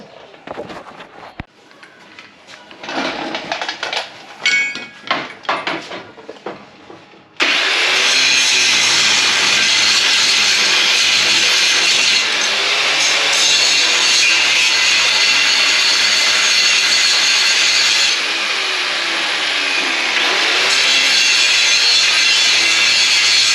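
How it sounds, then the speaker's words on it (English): An angle grinder cuts out nut rivets on a Jeep Gladiator skid plate bracket, starting after a stretch of clattering handling noise, then a loud, continuous high-pitched grind that holds for over fifteen seconds with slight pitch dips as it bites. "looks like I gotta grind those nut rivets out that I put in there for the Mojave plate"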